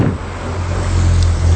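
Saxo Bank team vehicles at the 2013 Tour de France pass a few meters from the curb on the Promenade des Anglais, a loud close engine rumble with heavy low drone and wind rush, swelling as they go by.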